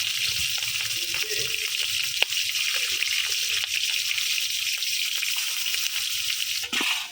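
Pieces of rohu fish frying in a wok give a steady, bright sizzle that holds evenly throughout, with faint speech and a few soft knocks underneath.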